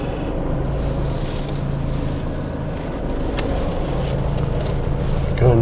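A Giottiline Siena motorhome engine runs steadily while reversing, a constant low rumble with some road and wind noise, no talk over it.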